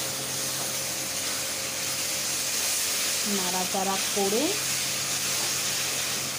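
A pan hisses and sizzles steadily as a spice paste fries and is stirred, while a voice briefly speaks over the constant frying noise.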